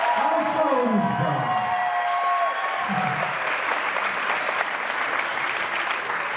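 Audience at a dance show applauds and cheers, dense clapping with a few whoops sustained throughout while a voice speaks over it at the start.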